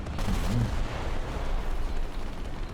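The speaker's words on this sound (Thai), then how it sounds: "แล้วก็ทิ้งระเบิดไปด้วย เสียหายหนักหมดเลย" Bombs dropped by a jet plane explode on a warship in a warship-versus-tank video game, producing a loud, dense rumbling blast that rolls on continuously without clear separate hits.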